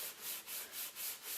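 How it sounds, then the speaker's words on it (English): Hand scuff sanding of painted faux leather furniture with Dixie Belle Silk All in One paint, a soft, close rasping rub repeated in five steady back-and-forth strokes, with no voices. "I'm just gonna show you a little scuff sanding"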